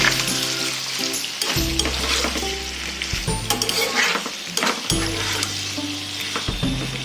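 Paneer cubes fry with ginger paste in a pan, giving a steady close sizzle with stirring scrapes throughout, and no voices over the cooking.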